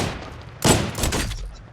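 Gunfire in the mobile shooter Call of Duty Mobile, a loud burst of shots breaking in after a quiet lead-in, with a couple of further blasts following closely.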